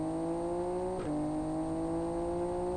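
A car's turbochargers spool up in the Live For Speed racing game, giving a steady high whine over the engine drone, with a brief pitch dip as the revs change; the sound is moderately quiet and has no talking.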